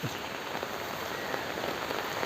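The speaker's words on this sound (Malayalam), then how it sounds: "മഴയാണ് എല്ലായിടത്തും" Steady rain pours down, a dense hiss of drops hitting surfaces without pause.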